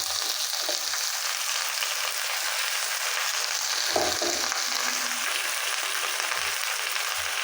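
Jute greens fry in a hot pan with a steady, dense sizzle throughout, punctuated by a few soft thumps and stirring knocks near the middle, no voices.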